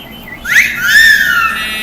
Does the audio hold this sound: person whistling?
yes